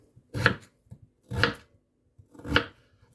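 A dull kitchen knife chopping food on a cutting board, three separate heavy, slightly dragging cuts spaced about a second apart, close and clear with no talking.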